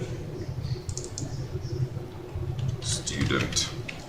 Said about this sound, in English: over here, you can type in your student number